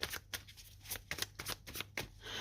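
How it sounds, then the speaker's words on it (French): Tarot cards slide and tap against one another and the table in quick, soft flicks, a close, faint run of papery strokes with no speech. "On va mettre une carte dessus."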